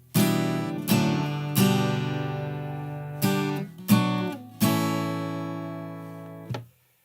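A handful of single acoustic guitar strums on chords, each ringing out and decaying before the next, played close with no talking.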